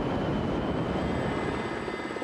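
Salvage helicopter flying with a steady, loud rotor and engine roar that holds evenly throughout, with no voices.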